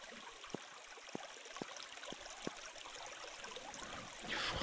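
Water flows in a blocky sandbox video game, a faint steady trickling wash with a few soft clicks and a slight swell at the end.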